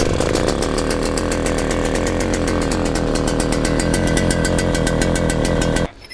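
A paramotor engine during a rebuild runs loud, close and steady with a buzzy, rapidly pulsing drone, then cuts out abruptly near the end when the kill switch is hit.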